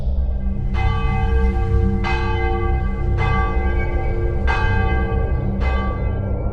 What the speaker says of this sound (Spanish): escuchamos un sonido extraño y muy fuerte, el cual, ahora pienso, pudo haber sido el de las campanas de Bury St.